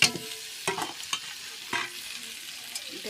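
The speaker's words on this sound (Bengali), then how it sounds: "এটা কষে নিচ্ছি" A spoon scrapes and stirs a spice masala of onion, garlic, ginger, tomato and ground spices frying in a pan for an egg, cauliflower and potato curry, giving a few distinct strokes over a soft sizzle.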